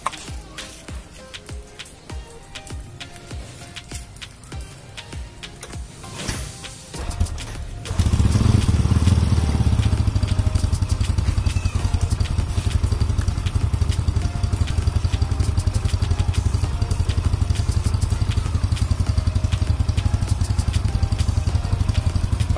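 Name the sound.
motorcycle engine starting and idling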